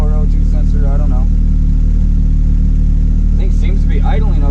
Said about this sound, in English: I think it seems to be idling okay though.